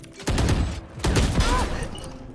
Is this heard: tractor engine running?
no